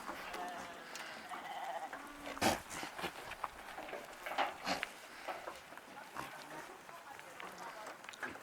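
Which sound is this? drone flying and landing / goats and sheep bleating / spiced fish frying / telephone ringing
goats and sheep bleating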